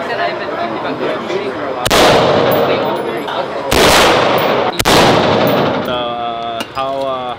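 Gunshots ring out at a shooting range: three sharp, loud blasts spaced a couple of seconds apart, each with a long echoing tail, followed by a person talking.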